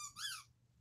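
A squeaky dog toy gives one short, high squeal that rises and falls within about half a second, close and clear over a faint low hum.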